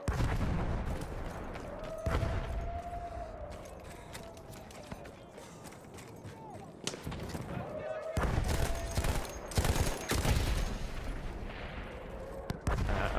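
Sporadic gunshots from a gun in The Runner video game, sharp isolated cracks and a couple of clustered bursts spread across the stretch over a busy game backdrop, with a voice speaking at times.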